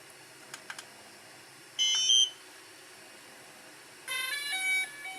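A DJI Spark drone controller gives short electronic beeps, a brief tone followed later by a longer stepped beeping sequence, faint against a quiet background with a few small clicks.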